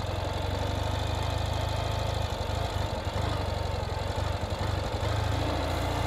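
Olive gloss 2019 Ural Gear Up sidecar motorcycle idling steadily with no throttle, a loud, close, low continuous engine rumble with a faint knocking pulse throughout, no talking.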